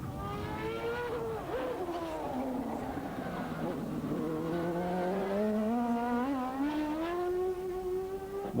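Lola T94 Indycar on the Sebring test track, its engine revving up and down through gear changes and corners, moderately distant and steady, with a brief tyre squeal and no talking.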